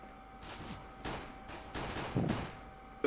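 Glock pistol fire in a shooting video game comes as a few sharp, fairly faint shots spread over about three seconds, with an irregular rhythm against quiet background game sound.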